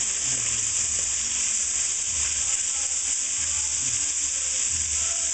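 Bacon fries in a pan with a steady, even sizzle, a close crackling hiss that holds constant throughout without pauses, while the fat renders for a clam and shrimp chowder.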